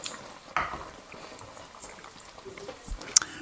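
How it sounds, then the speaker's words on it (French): A pot of rabbit pieces in mustard sauce simmers quietly, soft bubbling and faint patter close by, with a few brief clinks over 3 or 4 seconds. "on va laisser ça mijoter pendant 3 quarts d'heure, 1 heure"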